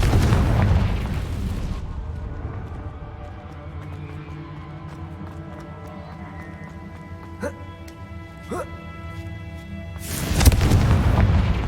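A Confringo spell goes off in the video game Hogwarts Legacy: a loud, rumbling blast at the start fades into quiet, sustained game music with faint chimes, and another heavy explosion bursts near the end.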